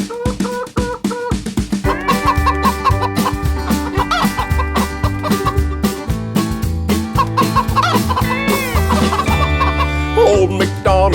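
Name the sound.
chicken clucking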